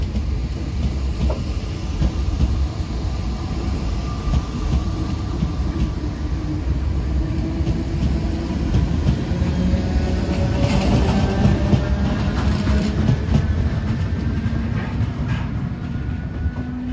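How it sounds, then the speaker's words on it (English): An Irish Rail multiple unit train passes on the line between Dublin, Bray and Greystones, a loud steady rumble with rhythmic wheel clatter and faint rising motor whine, heard close by with no voices. "The sound of those nostalgic sounding MUs."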